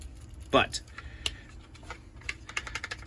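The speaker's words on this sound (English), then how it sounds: "this is the loudest freaking sheath I've ever heard in my life. This thing rattles so damn much." A Zero Tolerance ZT 0006 fixed blade knife in 3V steel, its sheath clicking and rattling in a few brief, close plastic knocks, one sharper clack near the start, with a voice talking.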